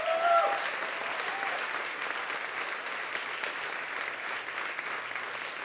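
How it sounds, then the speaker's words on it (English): Applause from the audience at a university's opening ceremony for the academic year and awards presentation, a broad, even wash of clapping that holds steady throughout, with a brief tonal sound at the very start. "Let's give everyone one more big hand of applause."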